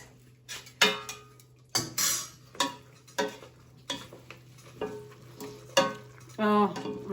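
Zucchini being stirred in a pan for carbonara alle zucchine: irregular scraping and clacking strokes of a utensil against the pan over a soft sizzle, with a few louder knocks and a brief voice near the end.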